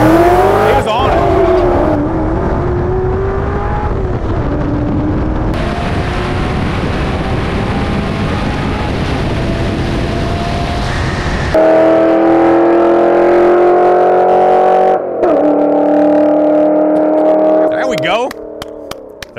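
A Ford Fairlane drag car, revived after sitting dead for 40 years, roars hard down a drag strip with a loud sustained engine note and rising gear pulls, close and dominant over the full run, with people talking over it.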